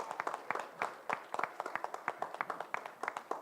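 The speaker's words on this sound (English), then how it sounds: "Let's give the board a big round of applause." A small audience claps for the board at a live-streamed meeting, a modest, uneven patter of hand claps at moderate distance with no speech over it.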